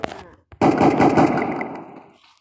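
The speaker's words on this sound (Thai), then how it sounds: "ปืนลั่น" An accidental gunshot from a discharging gun goes off as one loud, sharp blast that rings out and decays over about two seconds, preceded by a brief mechanical click.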